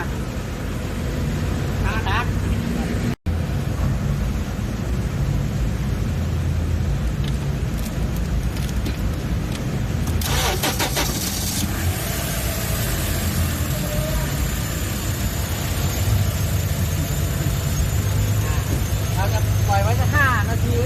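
A vehicle engine idles steadily for about ten minutes after an oil additive, EZI LUPRO MAX PLUS, has been added, giving a continuous, fairly loud low rumble throughout with brief clatters partway in.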